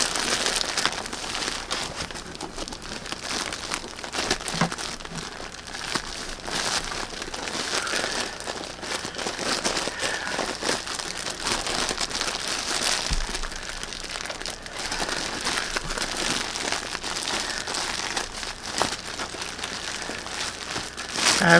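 A plastic bag crinkles and rustles continuously as it is worked around a cushion, a steady close crackling texture with no talk.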